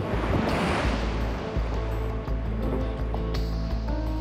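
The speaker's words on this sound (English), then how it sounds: "We had 6 to 8 foot surf coming in" Big 6 to 8 foot ocean surf pounds Bondi Beach during a lifeguard rescue, a loud continuous roar of breaking waves and rushing white water with low rumbling surges.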